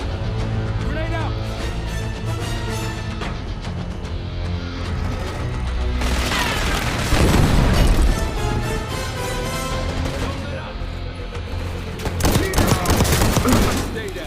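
Call of Duty Black Ops 6 combat: a loud grenade blast and crashing debris amid rapid bursts of gunfire, with shouted voices talking over the chaos.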